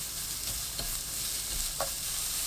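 Beetroot stir-fries in three tablespoons of oil over high heat, giving a constant close sizzle with a couple of brief spatula scrapes.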